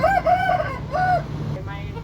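A rooster crows nearby in a rural Thai yard, two loud drawn-out calls in quick succession, followed by softer clucking-like sounds, with no talk.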